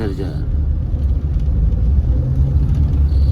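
Car driving on the Peripheral Expressway toward Meerut and Haridwar, a steady low engine and road rumble heard from inside the cabin, with someone talking over it.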